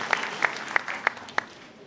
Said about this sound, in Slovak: A to si naozaj zaslúži potlesk.